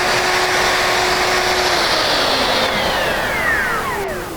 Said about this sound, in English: as I'm running around it with this router, you'll see the dust getting sucked right up into the dust collector